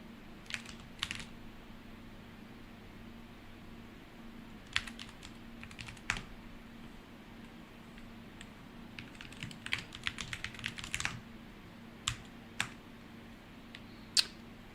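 Typing on a dusty computer keyboard, close and fairly quiet, with bursts of quick clicking keystrokes separated by short pauses over a faint steady hum.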